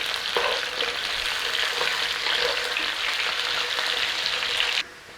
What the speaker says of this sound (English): We want to brown up our potatoes and cook them.